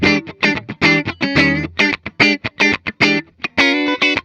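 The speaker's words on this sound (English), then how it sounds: "In the middle position, blending them actually sounds just as good." A 2018 Ebony Gibson Les Paul BFG plays clean with both P90 pickups blended in the middle position, a loud run of short, choppy chord hits and notes separated by quick silences.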